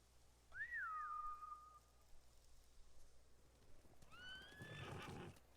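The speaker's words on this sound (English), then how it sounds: "Bastards scared off the horses." Two horses neigh in the samurai video game Ghost of Tsushima: a loud, clear whinny early on, then a second, rougher whinny a few seconds later, with faint hoof clatter and an otherwise quiet backdrop.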